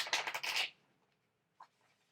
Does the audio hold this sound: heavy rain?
no